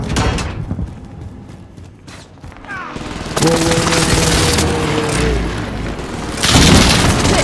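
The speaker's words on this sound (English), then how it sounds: "Enemy precision airstrike." Precision airstrike explosions in Call of Duty: Warzone on Rebirth Island, a loud booming barrage that swells into a sustained roar of blasts, with a brief whine and a final heavy burst near the end.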